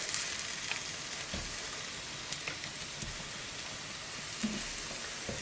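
Meatballs browning in a hot pan, a steady soft sizzle and crackle with occasional sharper pops, close and moderately quiet with no talking.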